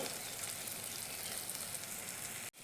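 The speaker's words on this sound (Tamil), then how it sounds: "இந்த சமயத்தில் நல்லா எண்ணெய் கொதித்து வருது பாருங்கள்" Oil heating for a tamarind kuzhambu bubbles and crackles steadily in a pan, a close, even hiss that carries on alone before cutting off abruptly at the end.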